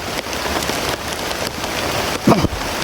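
Steady rain patters on a surface with a constant hiss and a brief louder splash near the end.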